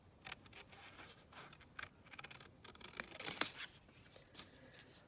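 Scissors snip through a paint sample card in a run of soft, quiet cuts, close but faint, with light paper rustling between them.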